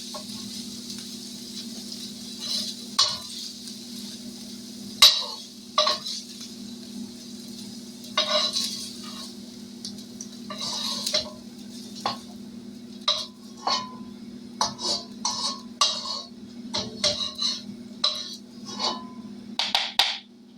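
Food being scooped into a bowl with utensils for a small breakfast casserole, a scattered run of light clinks and scrapes against dishware over a steady low hum, no talking.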